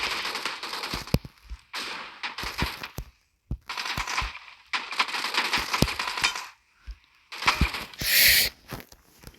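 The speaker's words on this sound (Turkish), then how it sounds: "UMP ilə vurur bu dostlar deyəsən." UMP submachine gun fire in the mobile game PUBG Mobile, rapid bursts of close gunshots in several clusters separated by short silences, with a brief bright metallic ring near the end.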